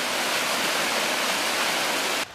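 Lower Windermere Creek flowing toward a lake outdoors, a loud, steady rushing of water heard up close and alone, continuous until it cuts off abruptly near the end.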